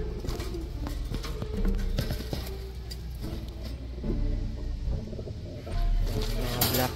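Breeder pigeons, Black Tiger birds in a loft setup, coo in an ongoing low murmur, close and fairly loud, with clattering and movement noises mixed in and no speech.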